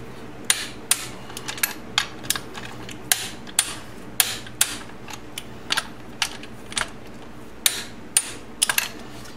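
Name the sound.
torque wrench tightening bolts on BMW K1200RS final drive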